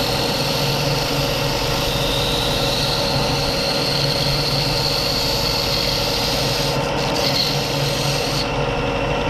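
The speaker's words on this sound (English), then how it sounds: "So I'm just going to sand that down round as best as I can to fit in the pipe." A pinecone duck call blank is sanded round to fit a pipe, giving a continuous, even rasping scrape with a low motor hum underneath, close and steady without pauses.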